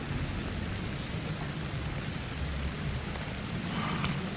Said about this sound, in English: Now it's raining as well.